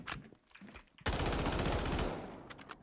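A tuned gun in the shooter game Delta Force fires one sustained loud automatic burst lasting about a second, preceded by a few faint quieter shots.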